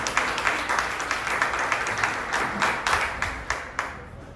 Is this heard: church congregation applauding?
yes